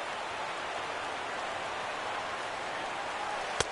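A baseball stadium crowd of more than 37,000 at an AL vs NL All-Star game roars steadily on its feet, a dense, constant wash of cheering with one sharp crack near the end.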